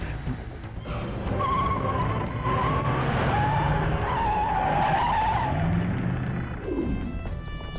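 Car speeding through a movie chase scene with a sustained engine roar and a tire skid or squeal, loud and continuous throughout, with a rising whine near the end.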